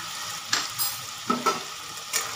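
A spice paste with chopped onion, turmeric, salt, chili powder and Kashmiri red chili powder sautés in a pan, with a soft steady sizzle and several short spatula scrapes spaced apart, close by, no speech.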